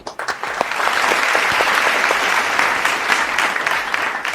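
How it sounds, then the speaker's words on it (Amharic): An audience at an Eid al-Fitr cooking show breaks into warm applause, starting with a few scattered claps before swelling into dense, sustained clapping that continues to the end. "አንድ ጊዜ ሞቅ ያለ ጭብጨባ ለክኖር"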